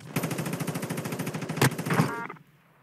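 Rapid automatic gunfire from the mobile video game Warzone Mobile rattles off in a fast, steady stream with a couple of heavier bangs near the end, then stops abruptly.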